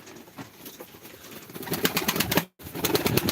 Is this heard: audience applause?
no